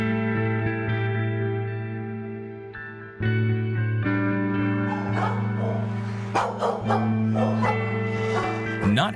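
A cage-reactive female dog in an animal shelter barks repeatedly in the second half, rough bursts over a steady droning tonal background.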